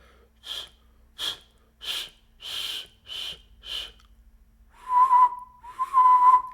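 A person whistling by breathing in makes six short, breathy whistle-like inhales in a slow rhythm, then two longer, clearer whistled tones, close by.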